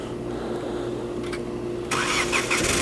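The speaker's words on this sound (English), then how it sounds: "the car does start without the key, and it'll run for maybe 10 minutes or so" A VW Golf engine, started by remote key, cranks and catches near the end, jumping from a low idle hum to a louder running roar; no talking.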